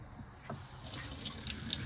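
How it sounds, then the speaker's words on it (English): Water runs from a tap in a Mercedes Sprinter 170 4x4 van conversion, its filtered flow weak from a nearly empty tank; a close, soft splashing trickle starts midway and grows. "and have ultra pure water through the tap here"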